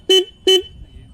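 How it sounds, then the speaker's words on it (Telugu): Two short, loud single-tone horn beeps from a Harley-Davidson X440 motorcycle, evenly spaced with a brief silence after each, heard alone up close. "హారన్ సింగిల్ హారన్ అనమాట, ఇలా సౌండ్ చేస్తుంది."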